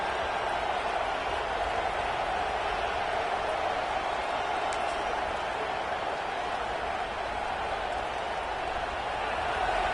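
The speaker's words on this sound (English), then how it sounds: "This crowd is trying to inspire this defense to make a big red zone stop." A football stadium crowd roars steadily through a red zone defensive stand, a dense, sustained wash of distant cheering with no letup.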